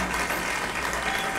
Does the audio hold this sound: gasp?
no